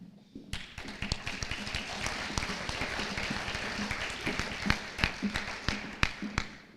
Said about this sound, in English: Can we please have one more round of applause for our CDE, LDE, State Leadership Specific Events, and Voting Delegate Award recipients.